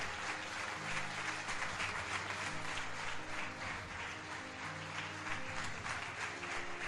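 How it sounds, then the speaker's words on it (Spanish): A church congregation applauding during a sermon, a steady wash of many hands clapping at moderate distance, with music or voices faintly sustained underneath. "Dale el aplauso al Rey"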